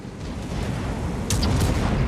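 A loud, dense rumbling blast of artillery gun fire in a video game fills the clip, with a sharp burst of crackling near the end.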